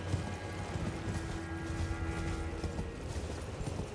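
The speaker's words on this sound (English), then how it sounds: "Look at my horse. My horse is amazing." A horse's hooves clip-clop in a steady, quiet rhythm while it travels in the video game Elden Ring: Shadow of the Erdtree, with a low ambient backdrop.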